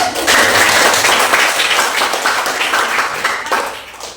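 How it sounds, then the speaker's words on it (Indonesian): A classroom of students breaks into loud, dense applause during a lesson, with rapid overlapping claps close by that hold steady and then thin out slightly at the end. "Tepuk tangan dulu"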